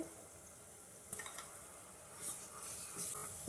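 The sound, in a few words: ginger garlic paste frying with onions and coconut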